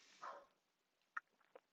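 A dog waking up in another room, heard faintly: a short whine followed by a few soft, distant yips and sniffs in an otherwise quiet space.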